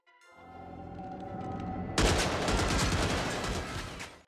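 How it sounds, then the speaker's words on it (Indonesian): A rapid volley of gunfire erupts partway through, a dense burst of overlapping shots following a quieter, tense lead-in. "Di penyerangan tersebut, istrinya Arnold terkena tembakan dan Arnold pun mendapatkan luka tembak di lengannya."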